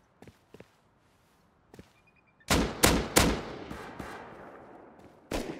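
Gunfire in the survival video game Rust: a few faint distant shots, then a loud burst of close sharp reports in quick succession that ring out and fade, followed by another single shot.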